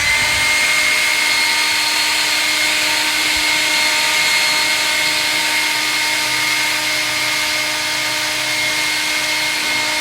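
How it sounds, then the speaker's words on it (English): A loud, constant leaf blower motor whine with a steady airy roar, running without pause for the whole stretch, no talking. "We're gonna call this the leaf blower test."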